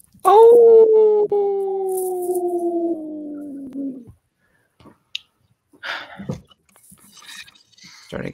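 A person imitates a dog's howl with a long, loud, sustained wail lasting about four seconds that slowly falls in pitch, followed by brief scattered voices and light noises.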